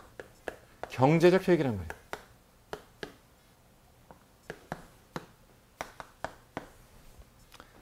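Pen strokes on paper from someone writing by hand in an accounting lesson come as sharp, close taps and short scratches spaced through the stretch, with a brief spoken phrase near the start.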